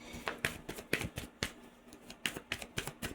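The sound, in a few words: shuffling cards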